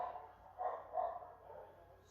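A dog indoors gives a few muffled barks in quick succession, moderately faint and heard alone without talking.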